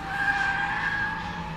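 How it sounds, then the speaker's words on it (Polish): Cars drift on a race track in Białystok, tires screeching in one long, sustained skid with an engine droning underneath, moderately loud and heard from trackside. "Żeby zobaczyć, jak jeżdżą samochody. Popatrzeć, jak driftują."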